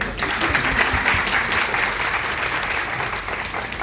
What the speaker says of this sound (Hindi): एक तो ताली बजाने लायक है तो बजा देते